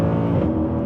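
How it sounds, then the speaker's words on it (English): The 6.2-litre V8 of a Mercedes C63 AMG 507 Coupe blips during a rev-matched downshift, a brief, loud, deep engine roar heard up close with no pause. "We slow down, rev match."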